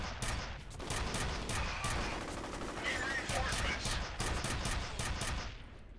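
Rapid bursts of gunfire from snipers in the game F.E.A.R. crack out in repeated volleys, loud and close, forming a stuttering rhythm across the whole stretch.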